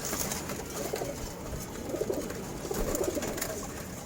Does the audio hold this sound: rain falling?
no